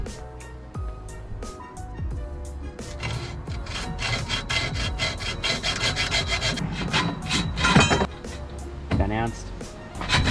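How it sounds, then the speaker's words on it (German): A hand saw rasps back and forth through rods for a DIY coat rack in a steady rhythm of strokes, close and fairly loud, with a person's voice and light clinks in between. "Muss ich nämlich nur einmal sägen"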